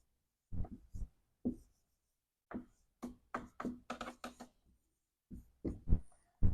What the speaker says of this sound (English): I write this vague goal in red